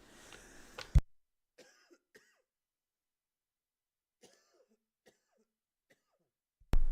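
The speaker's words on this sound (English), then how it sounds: "apparently I got to apologize because you're still gonna hear me cough." A single sharp cough rings out close by, followed by faint clicks and small shuffling noises in near silence, then another abrupt burst at the end.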